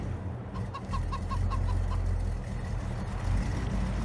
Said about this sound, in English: Oh, they're free-range chickens